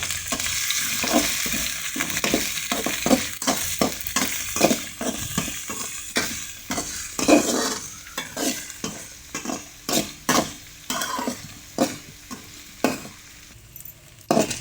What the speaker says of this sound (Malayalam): ഇഞ്ചി, ഇതെല്ലാം കൂടെ ചേർത്ത് നല്ലതുപോലെ ഒന്ന് ഇളക്കി കൊടുക്കാം.